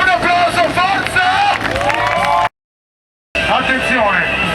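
A crowd at a freestyle motocross show cheers, whoops and claps in a dense, lively roar, briefly cut to silence before the noise resumes.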